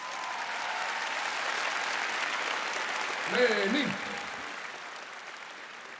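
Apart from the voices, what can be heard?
audience applause for the band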